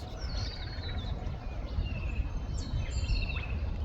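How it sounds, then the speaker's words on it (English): A fantail cuckoo calls in the background near a creek at Archerfield Wetlands, its thin high descending trills repeating faintly over steady low outdoor noise, with other small birds chirping nearby. "That's the fantail cuckoo you can hear in the background."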